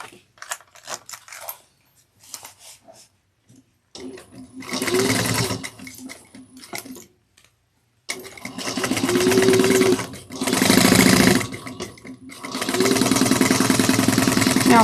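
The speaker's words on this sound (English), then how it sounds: "we're going to sew this on using 1/8 of an inch" A sewing machine stitches a bag seam at an eighth-inch allowance in loud, close bursts: short ticking starts, then longer steady whirring runs separated by brief pauses.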